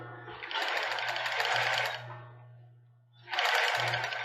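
A sewing machine stitching the seam of a child's bra, two loud close bursts of rapid needle chatter separated by a short pause, with a low motor hum underneath and no talk.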